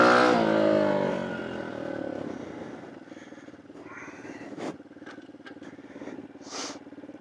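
Tao Tao DBX1 dirt bike engine running after a trail ride, loud at first as it slows and pulls up, then settling to a quieter steady idle with a few short sharp noises.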